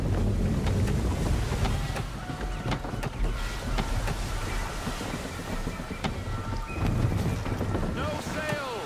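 Sailing ship at sea in Assassin's Creed 3 Remastered, with steady, loud wind and rushing water against the hull, and faint creaks and calls drifting over the constant roar.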